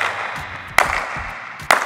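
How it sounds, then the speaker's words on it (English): Feet striking the ground during a bounding speed-and-agility drill, two sharp, close slaps about a second apart over a steady background hiss. "So remember, your feet should sound like this."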